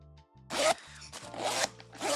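A zipper is pulled in several quick rasping strokes, close and distinct, with brief pauses between the pulls.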